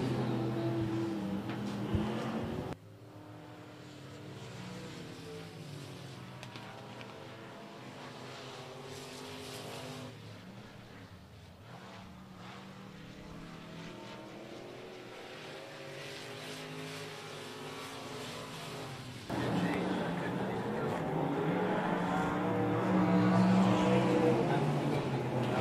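USRA Limited Modified race cars roar around a speedway oval during a feature race, engines droning and swelling as the pack passes, with a race announcer talking over the track noise.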